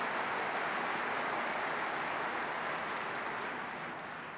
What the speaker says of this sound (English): Let's give Paul Ryan another great round of applause for his service and leadership to us.